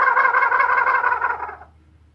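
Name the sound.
Haint gobble call imitating a turkey gobble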